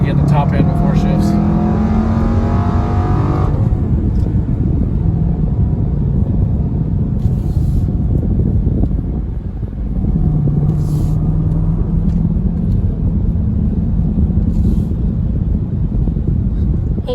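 A Dodge Durango SRT engine pulls steadily as the SUV accelerates along a short straight, a continuous low rumble with gear shifts and rising revs, heard from inside the cabin with some road and wind noise.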